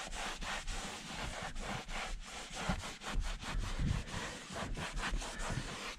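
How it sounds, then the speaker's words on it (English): Repeated rubbing strokes of a microfiber towel buffing conditioned leather, a steady rhythmic swishing and scrubbing that stays close and fairly loud, with no talking. "just a quick buff with a microfiber towel"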